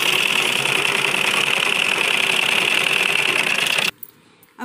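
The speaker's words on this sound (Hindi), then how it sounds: "अब इसके चारों तरफ सिलाई करेंगे हम।" Sewing machine stitching all around a small fabric patch for a deep-neck blouse, a steady loud mechanical whir running continuously for nearly four seconds before stopping abruptly, with no talk.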